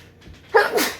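A single short dog bark, close and fairly loud, in a quiet room at home.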